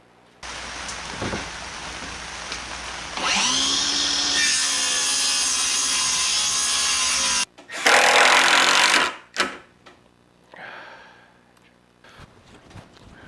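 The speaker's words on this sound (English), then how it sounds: "Now I'm going to put the plywood top on it." A plywood top goes onto a wooden washout stand for screen printing, bringing sustained loud power-tool noise, a pause, then another short burst and a few scraping knocks as the sheet is fitted.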